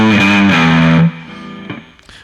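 Surf-style electric guitar played through an amp's rock setting with a glue compressor and soft clipping, a sustained distorted chord ringing for about a second, then cut short, followed by a few quieter plucked notes.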